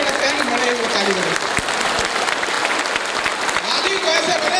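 An audience at the Patna Success Day 2016 event claps steadily in a dense patter, with a voice speaking over the applause throughout.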